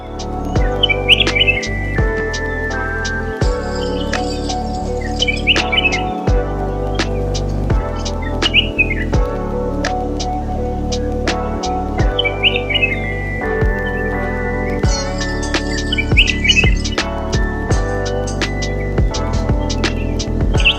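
Bright, repeated bulbul chirps and short calls in scattered bursts over a steady background hum, moderately close, at a police office in Payyanur, Kerala, with no talking.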